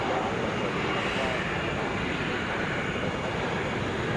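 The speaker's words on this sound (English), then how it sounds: "Touching down right now, this is Delta Flight 376 coming in from Boston" A Delta Airbus A321 arriving from Boston touches down at Atlanta airport, a steady loud broadband engine and rollout roar held throughout without a clear break.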